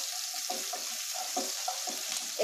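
Onion fries with curry leaves in hot oil, giving a continuous bright sizzle with crackling pops scattered across it, close and fairly quiet, with no talking.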